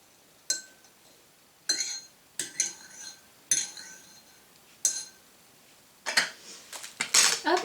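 Homemade hoof oil being stirred in a jar, with a metal utensil giving about seven sharp clinks and scrapes against the glass at irregular intervals, close and fairly quiet.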